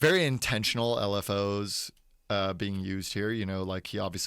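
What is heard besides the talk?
No distinct noise like a dog, phone or traffic.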